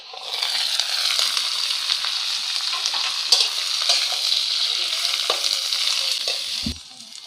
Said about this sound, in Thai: ยอดฟักแมวลงไปผัดเลย